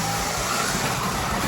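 Revo slot cars, a McLaren and a Mercedes, race on a track, a continuous whirring motor buzz with a steady dense rush and no pauses or voices.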